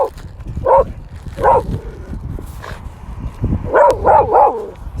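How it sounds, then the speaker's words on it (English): A dog barks in repeated bursts, clusters of sharp barks close by during a walk, with a person's scolding voice between them. "Barking at the person that came out of that house."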